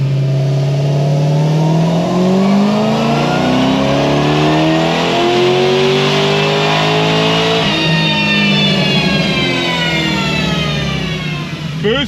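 Supercharged GM car engine revving hard under full throttle on E-blend fuel with a cold drive belt, harmonics sweeping steadily upward for about eight seconds before a brief dip as boost falls off, then climbing again, loud and close throughout.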